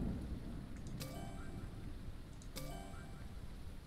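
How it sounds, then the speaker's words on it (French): Thunderstorm ambience in the video game Airport Renovator: steady rain hiss with low rumbling thunder, broken by two sharp lightning cracks about a second and a half apart, loud and close throughout. "il y a de l'éclair, d'orage"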